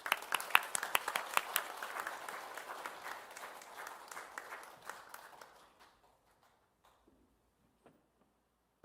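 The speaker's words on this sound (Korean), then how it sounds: "우리 목사님 나오실 때요, 환영하고 격려하는 의미로 박수로 맞이하겠습니다." A church congregation claps to welcome the pastor for a Sunday service sermon, scattered hands filling the room at first, then thinning out and fading to near silence after about five seconds, with a few stray late claps.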